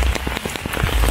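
Rain falls steadily on surfaces during a long run of wet weather in the Philippines, a dense, even patter of drops close by, with no voices.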